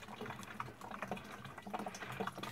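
Low-pressure water from a tap at a roadside central water point trickling into a jug, a close, uneven gurgle and splash that continues without voices.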